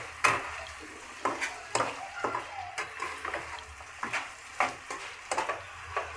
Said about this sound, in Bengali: আলু মটরটা দিয়ে দিচ্ছি, দিয়ে ভালো করে কষিয়ে নেব